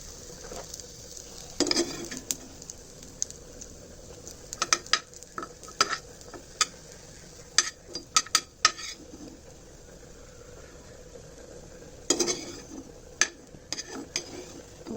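Onions frying in a pan and being lifted out, a low steady sizzle beneath repeated sharp clinks and scrapes of a utensil against metal, with a couple of louder bursts.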